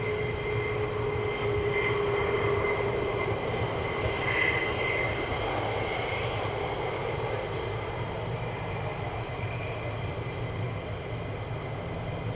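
Military aircraft at RAF Lakenheath preparing for departure, a steady loud engine drone holding throughout with a faint rising whine partway through.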